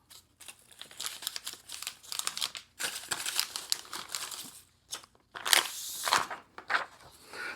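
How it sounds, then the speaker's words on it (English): A WE folding knife slicing through a sheet of paper, giving crisp crinkling and rustling bursts in uneven strokes with short pauses, close and loud, with no voice. "It feels like there's absolutely no resistance between the knife and the paper."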